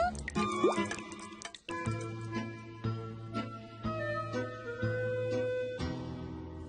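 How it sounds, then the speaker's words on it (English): Water drips into pots and pans set around an old house in a cartoon, a steady run of bright plinks and pings ringing over a soft musical backdrop. "every old house has a drip or two"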